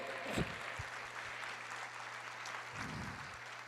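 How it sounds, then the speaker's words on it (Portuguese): A church congregation breaks into steady clapping during a sermon, the applause holding evenly with a few stronger bursts near the start and toward the end. "Aplauda o Senhor"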